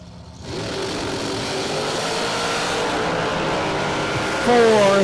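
Class C dragster race car engines idle at a drag strip with a steady, rough rumble that grows louder near the end as one engine revs up, and a faint announcer voice runs beneath.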